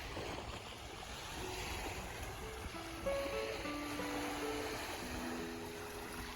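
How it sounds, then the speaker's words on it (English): Ocean waves wash ashore at a beach in Puerto Peñasco on a cloudy, overcast day, heard as a faint, steady surf hiss with no distinct breaks and a few thin tonal sounds drifting over it. "cloudy, overcast day at the beach. Puerto Penasco."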